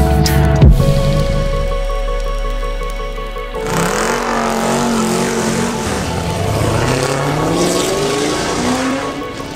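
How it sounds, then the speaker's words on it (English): Loud cars at a morning cars and coffee meet, engines revving hard and roaring close by with a tire squeal, the pitch rising and falling as vehicles accelerate past over nearly ten seconds. "lots and lots of loud cars."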